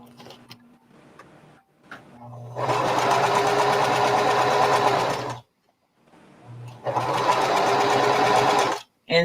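A sewing machine stitches a tote bag made from bandanas, two loud sustained bursts of fast needle clatter separated by a short silence, with faint quiet sounds before the first run.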